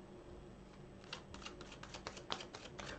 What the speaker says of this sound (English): The cards are well shuffled.